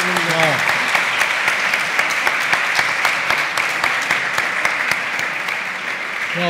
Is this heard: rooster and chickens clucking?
no